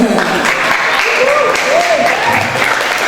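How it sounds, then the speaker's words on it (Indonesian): Lively audience applause fills a school hall during a Hindu religious education session, with dense continuous clapping and some overlapping voices calling out. "Kurang keras tepuk tangannya."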